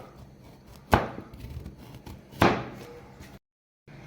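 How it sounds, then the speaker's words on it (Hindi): Two sharp, loud knife chops through carrots on a cutting board about a second and a half apart, followed by a brief moment of silence. "इसे हम कट कर लेंगे। छोटे छोटे टुकड़ों में से कट कर लेंगे।"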